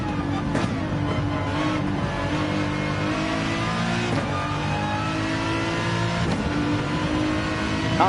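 An Aston Martin race car in Gran Turismo 7 revs loud and steady, its engine note rising and falling through gear changes and playing alone without talk.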